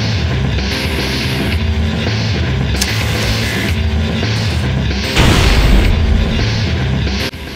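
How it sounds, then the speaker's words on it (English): A plasma grenade sticks and explodes in Halo Combat Evolved, a boomy blast rising out of a dense, continuous bed of game sound, louder toward the end. "Second method is a plasma grenade stick."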